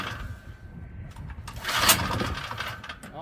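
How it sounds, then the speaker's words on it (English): A 123cc Powermore snowblower engine being started on choke: a rough, rising mechanical clatter as the engine catches, sputters and picks up, loud and close over a low background rumble. "We have it on choke, so should fire right up."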